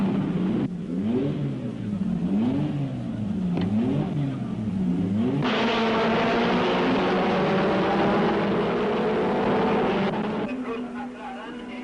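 Racing cars starting the 1961 Belgian Grand Prix, several engines revving hard in wavering tones before the field roars away together in a loud sustained blare that gradually eases.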